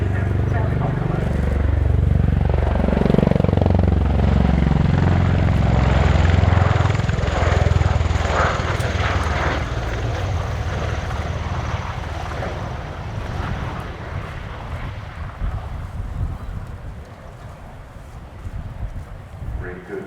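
A CV-22B Osprey tiltrotor at an air display flies past in helicopter mode, its heavy low rotor thump loud and close at first, then slowly fading as it moves off.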